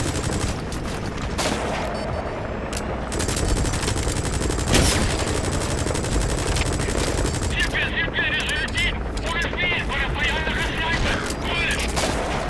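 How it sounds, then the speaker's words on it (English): Sustained cover fire from automatic weapons in Metal Gear Solid V: The Phantom Pain, a dense, loud, unbroken rattle of machine-gun bursts with a steady roar underneath that never lets up. "Begin cover fire."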